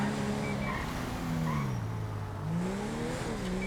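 A car engine in a video game chase drones and revs, its pitch sliding up and down as it drives fast, a continuous mid-level engine tone with faint background noise and no talking.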